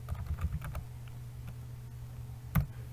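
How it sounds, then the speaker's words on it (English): Someone types on a computer keyboard, with scattered soft key clicks in a quick cluster at first, then a pause and a single louder tap, over a faint low hum. "I'm typing but it's not bringing information"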